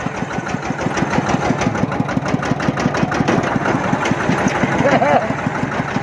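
A tractor engine chugs steadily close by, a loud rhythmic diesel knock running throughout, with faint voices partly buried beneath it.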